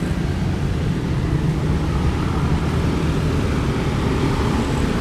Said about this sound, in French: Là ça c'est la circulation.